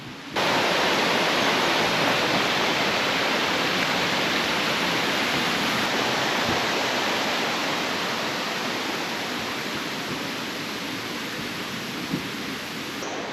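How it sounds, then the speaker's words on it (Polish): A loud, steady roar of rushing water starts abruptly and continues unbroken, a dense broadband hiss from a small waterfall in Martvili Canyon, Georgia, heard nearby. "Zbliżamy się do wodospadu. Słyszycie już szum?"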